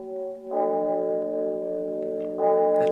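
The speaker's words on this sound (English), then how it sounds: "That's the steeple bell." A church steeple bell rings in steady, sustained tones with a harmonic hum, a fresh strike swelling the sound near the end, heard alone at moderate loudness.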